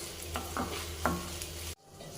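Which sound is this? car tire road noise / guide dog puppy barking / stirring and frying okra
stirring and frying okra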